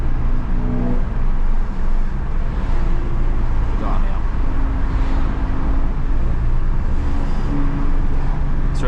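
A tuned 400 BHP Volkswagen Golf R drives along with a constant loud engine drone and road rumble filling the cabin, steady throughout with no clear revving peaks.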